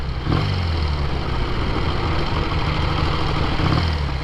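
A 1968 Triumph Bonneville cafe racer motorcycle engine idles and runs steadily nearby, a continuous low rumble with slight swells in revs, no voices.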